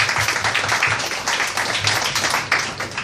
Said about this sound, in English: maybe a round of applause to Neeraj.